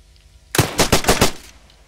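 A rapid burst of about five sharp gunshots fires close by, almost like automatic fire, then quickly stops.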